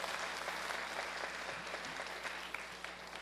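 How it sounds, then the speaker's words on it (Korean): Audience applause at a university lecture Q&A session fills the space, a steady sustained clapping from a room full of people, fairly soft and even, tapering slightly at the end. "박수 한번 주세요."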